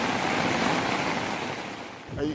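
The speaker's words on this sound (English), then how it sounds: "Look how the water coming out this gully" Water rushes out of a gully in St. Lucy, Barbados, a loud, steady broadband roar with wind buffeting the microphone, close and continuous, briefly dipping near the end.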